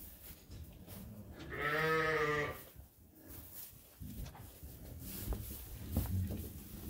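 Dorset ewes heavy with lamb bleat in a farm pen, one loud wavering bleat standing out near the start, then quieter shuffling and further faint animal sounds.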